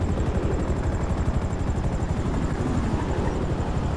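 A video game helicopter drones steadily and loudly throughout, its rotor chop forming a continuous rhythmic thrum with no talk over it.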